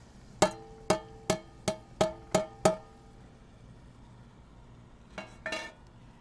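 A metal spoon stirs bacon and onions in a pot over an open fire, giving seven sharp, evenly spaced clanks against the pot, then a short scrape. The sound is close, with no one speaking.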